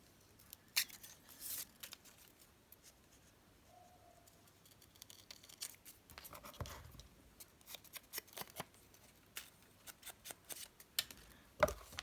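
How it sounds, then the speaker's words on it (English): Paper corners are rounded off for handmade journal embellishments, heard as a series of soft, close snips and clicks with light paper rustling in between, fairly quiet. "I'm going to round off the corners on here."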